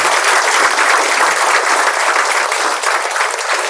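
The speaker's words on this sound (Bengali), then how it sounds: "আমি একটু বলবো মোদি কেয়ারের জন্য জোরে একটু সবাই হাততালি দেন" Loud, dense audience applause for Modicare at a presentation, a continuous roar of many hands clapping with no break, close and filling the room.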